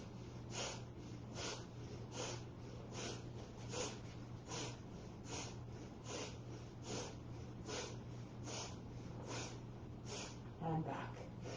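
Kapalabhati breathing during a twisting yoga movement: a steady series of about fifteen sharp, forceful nasal exhales in a quick even rhythm, close and clear over a low background hum.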